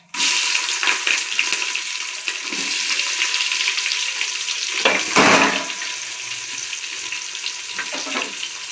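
Chopped onions sizzle in a hot pan for vegetable biryani, a steady broadband frying hiss throughout with a louder surge of sizzling and stirring midway, no voices.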